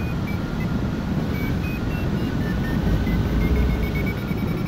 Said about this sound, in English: And can you hear that vario springing at me? It's going brrr, brrr. It's like a blinking phone.